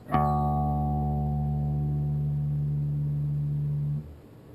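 A single low E guitar string tuned down to D, plucked and left ringing, sustaining evenly for about four seconds before being muted.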